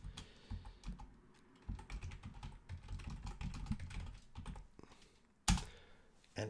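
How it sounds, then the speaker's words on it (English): Quiet, close typing on a computer keyboard during an English vocabulary lesson, a rapid irregular patter of key presses with one sharper clack near the end. "I'll just type it here."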